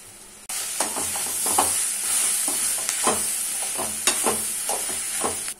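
Onions and soya chunks sauté in a pan with turmeric and salt, a steady close sizzle broken by repeated scraping stirs at an uneven rhythm, with no voices.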